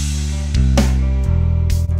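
A synth bass line with no EQ applied, playing a few sustained notes with a bright, buzzy edge, steady and loud, with no voices.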